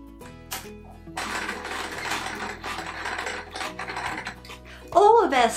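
A sewing machine whirs and clatters steadily for several seconds as it stitches a patchwork quilt, with a short vocal sound near the end.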